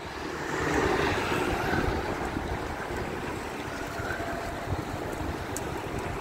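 Strong, steady wind buffets the microphone on Blackpool Promenade, a continuous low rumbling roar with gusts swelling in the first two seconds, carrying alone without any voices.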